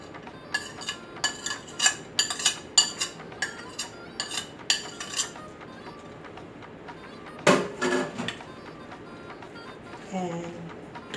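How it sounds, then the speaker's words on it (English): Cooked onions and garlic spooned into a bowl of mashed lentils for patties, with a run of close, sharp clinks and taps of a utensil against the bowl, then a louder scrape and a few softer knocks. "Now we're gonna add the onions and the garlic that we cooked."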